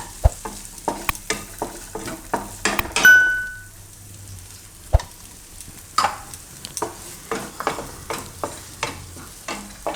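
Chopped onion hits hot oil in a pan while cooking broccoli soup, giving a soft sizzle under repeated scraping and clinking stirs of a spoon against the pan, steady and close.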